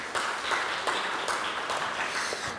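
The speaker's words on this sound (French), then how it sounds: "On l'applaudit, c'est un showman." An audience applauds a performer at an academic doctoral event, with moderate, even clapping that carries on steadily and unbroken.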